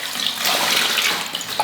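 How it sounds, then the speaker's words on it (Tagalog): Water poured into a sweet and sour sauce, a steady splashing, hissing pour lasting under two seconds, close and fairly loud with no voices. "maglalagay tayo ng tubig"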